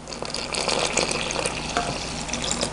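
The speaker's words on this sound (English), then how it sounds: "let's pour our 1 cup water" A cup of water pours steadily into a hole made in dry cake mix in a mixing bowl, a continuous splashing, gurgling rush close by with no voices.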